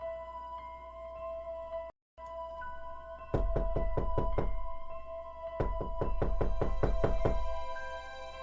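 Knocks on a door in a Japanese-style horror radio drama: a few sharp raps, then two quick bursts of five or six firm knocks each over a low steady hum, with no talking.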